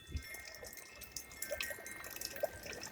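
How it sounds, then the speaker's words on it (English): A small outdoor water feature trickles and drips steadily, a faint, continuous liquid patter with a few brighter drops standing out, heard at a distance with no voices. "there's like a little water feature over there, which is pleasant"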